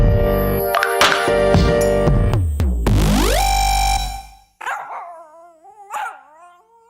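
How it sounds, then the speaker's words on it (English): A dachshund barks amid loud, busy show music and effects, followed by a few sharp, close yips with a whiny, pitch-sliding quality once the music cuts out. "today is Marvin, who is a wiener dog"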